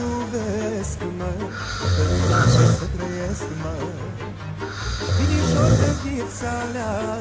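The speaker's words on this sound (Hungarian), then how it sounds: "Versenyt horkoltunk." People sleep overnight during a road trip in Transylvania, their loud rasping snores coming in rhythmic waves close by, one long snore after another with breathy pauses between.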